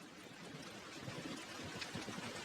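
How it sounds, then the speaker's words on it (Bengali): A heavy downpour of big raindrops in a Bengali horror cartoon makes a quiet, steady wash of rain noise with faint patters, unbroken and with no speech. "বড় বড় ফোঁটায় মুষলধারে বৃষ্টি হচ্ছে"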